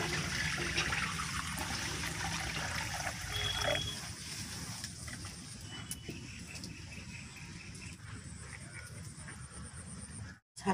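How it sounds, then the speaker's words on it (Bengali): Water poured into chatu pitha dough in a village kitchen, a thin continuous trickle over a faint background hum, ending with a brief pause and a small knock. "ছাতু পিঠা করার জন্য জল দিচ্ছি"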